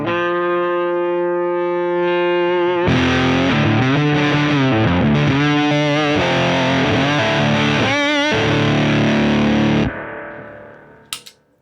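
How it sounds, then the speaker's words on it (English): A lap steel guitar with a Firebird pickup plays through a Fuzz Face distortion pedal: a sustained, buzzy chord swells loud with sliding, wavering pitch and vibrato, holds for several seconds, then cuts to a quieter clean tail and a final pluck. "the fact that fuzz face can clean up like that with this Firebird pickup is huge for me"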